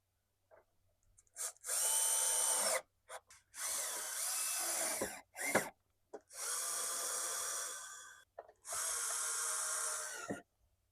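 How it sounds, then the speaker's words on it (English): A power drill driving screws back into a Porsche 993 taillight assembly, four close, loud bursts of whirring a second or two each, separated by brief pauses and small clicks. "now we got to put these screws back in here"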